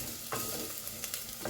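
Ginger and garlic fry in a pan, giving a steady, soft sizzle with occasional light clicks as they are stirred, faint and close, with no voices.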